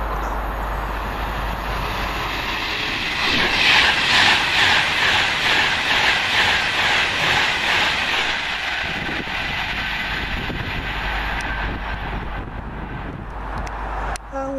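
Virgin train from Manchester Piccadilly to London Euston rushing past at Kings Langley, a loud sustained rolling roar and hiss of wheels on rails that swells early and fades toward the end.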